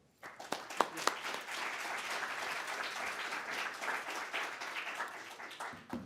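An audience at the International Spy Museum breaks into applause to welcome author Ken Daigler, a few sharp claps first, then steady, fairly distant clapping for several seconds before fading out.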